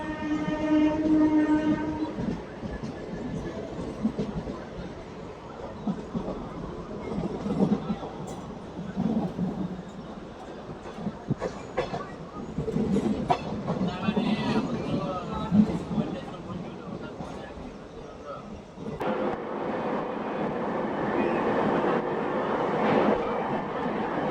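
A Hindupur–Guntakal DEMU train runs between Anantapur and Taticherla with a horn blast at the start, then a continuous rumble and rattling clatter of the carriages, while people talk intermittently nearby.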